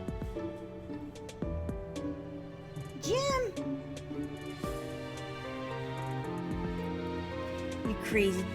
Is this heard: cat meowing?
yes